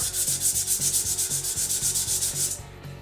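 Sandpaper rubs a turned wooden stool part spinning on a lathe, giving a steady, close hiss that swells and fades in a quick regular rhythm over a low motor hum, then eases off near the end.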